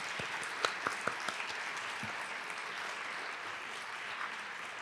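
An audience at a library author event applauds its sponsors, dense continuous clapping filling the room at an even level with a few sharper individual claps standing out near the front.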